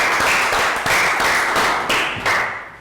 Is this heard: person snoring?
no